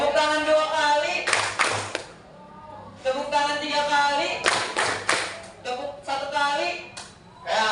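Hands clapping in short bursts of two to several sharp claps, separated by pauses, close and fairly loud in a small room.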